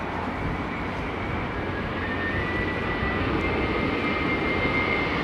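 An aircraft landing in a crosswind at London Heathrow Airport gives a loud, continuous engine roar with a faint high whine that stays steady throughout.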